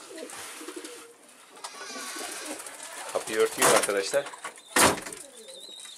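Bango pigeons in a coop, soft cooing and bird calls close by, broken by wing flaps and a couple of sharp knocks, while someone talks over them.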